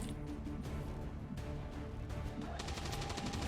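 Sustained gunfire from the Long War 2 video game during an area suppression ability, a dense continuous rattle of shots with a sharper burst of rapid fire toward the end and no talk.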